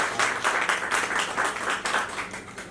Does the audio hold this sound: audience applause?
yes